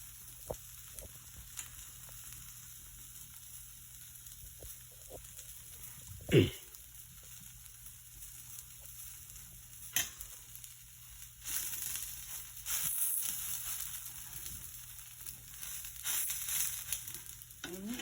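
Food folded over in a frying pan and left to crisp, giving a steady low sizzle with a few brief clatters and a louder burst of frying partway through; no talking.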